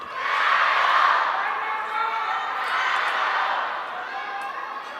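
Table tennis crowd at the 2022 WTT Singapore Smash match between Pan Zhendong and Ma Long, cheering and chanting for the players as a steady, broad roar that swells early and then holds at a slightly lower level.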